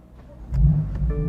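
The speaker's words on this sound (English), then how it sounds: "Now let's fire this thing up and let's go for a drive." A first-generation BMW M4 engine starting up with the top down: a short, low rumble swells in at about the halfway mark and settles into a steady, close idle, with no talk.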